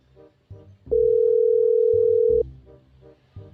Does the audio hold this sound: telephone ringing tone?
yes